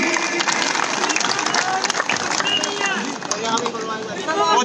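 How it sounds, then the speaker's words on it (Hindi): A crowd at a political rally in Ambala breaks into sustained applause, many hands clapping densely with crowd noise and scattered voices mixed in, filling the whole span. "ताली"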